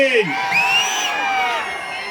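A crowd at a Telugu political rally cheers, whoops and whistles loudly for about two seconds, with excited voices rising and falling through the steady roar.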